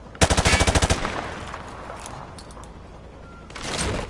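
A rapid burst of about ten gunshots on a video game shooting range, fired through a wood panel at a target, loud and close, then fading into quiet room tone before another swell of noise.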